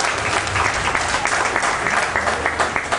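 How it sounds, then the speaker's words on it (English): A theme-park studio backlot tour audience at Hollywood Studios applauds after a physical stunt demonstration, steady, dense clapping from many hands filling the whole stretch with a crowd-like wash. "Everyone give Doug a big round of applause."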